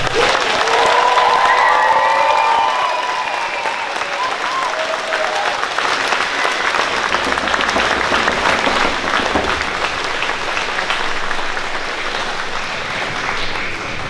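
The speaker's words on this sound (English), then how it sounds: "Give them a round of applause" Applause for graduates at a school graduation ceremony: a loud, sustained round of clapping from a large crowd with some cheering, continuing evenly throughout, with a voice briefly heard near the start.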